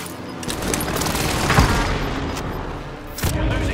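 An incoming strike with gunfire in a battle royale shooter, a muffled rumble of distant blasts and scattered shots with a sweeping whoosh, moderately loud and continuous.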